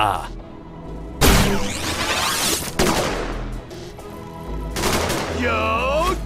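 Gunfire bursts in the game G.I. Joe: Operation Blackout, with loud sharp shots around a second and a half apart, each ringing out over game music while a voice talks.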